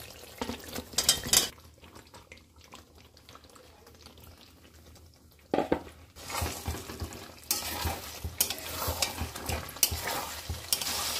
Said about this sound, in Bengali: মশলাটা আমার তেলের উপর এসে গেছে, তো আমি এবারে ফুলকপি আর আলু ভাজাটা এর মধ্যে আমি দিয়ে দিচ্ছি।